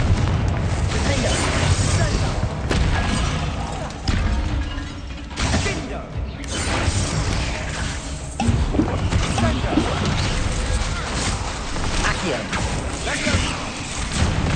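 Repeated booming blasts and crashes from the Confringo fire spell during combat in Hogwarts Legacy, heavy bursts recurring across the stretch amid battle noise.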